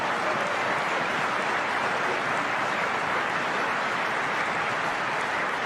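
A tennis crowd at the 2013 BNP Paribas Katowice Open final applauds a shot, with steady, dense clapping that holds loud and even throughout, no voices standing out.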